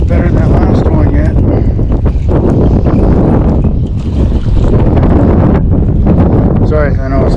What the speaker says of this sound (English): I know it's the wind. It's loud.